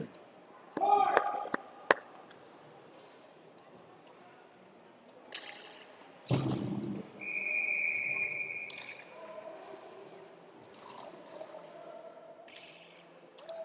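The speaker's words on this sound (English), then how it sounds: "And Dittman holds onto it for the whistle" A referee's whistle sounds at a youth U13 ice hockey game, one sharp, sustained blast lasting about a second, heard amid arena clatter and scattered knocks and thuds.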